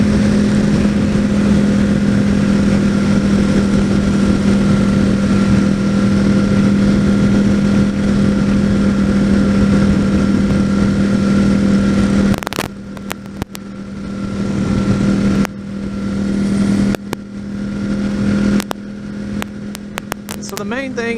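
A 2014 Yamaha R1 sport motorcycle cruises along with a steady, loud engine drone and rushing wind buffeting the microphone, broken by brief dropouts of gusty noise in the second half.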